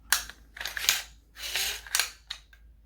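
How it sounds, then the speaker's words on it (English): Dry mechanical clicks of an AR-15 trigger being pulled and reset on an Aero Precision 10.5-inch A2 series rifle, several sharp snaps in quick pairs, close and clear with no talk. "Listen for that reset."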